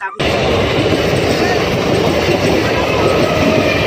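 A train passes very close on the rail line: after a sudden start, a loud, continuous rumble and rushing roar fill the scene for several seconds.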